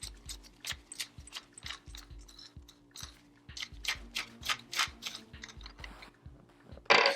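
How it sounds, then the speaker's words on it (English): Hatfield USA12W shotgun barrel retaining ring being unscrewed by hand, a rapid series of crisp ratcheting clicks from the threads, close and quiet, with a louder scrape at the end. "You'll go ahead and just unscrew it."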